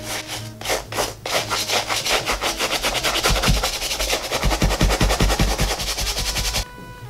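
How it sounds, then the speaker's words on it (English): A brush scrubs a white leather loafer coated in cleaning foam, a close, rapid back-and-forth rubbing that speeds into a tight, even rhythm of strokes before stopping abruptly near the end. "apply some more of the product to the back of the shoe and just keep scrubbing"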